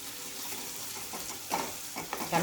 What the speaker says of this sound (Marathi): आता यामध्ये थोडा तेलातच काळा मसाला घालून घेते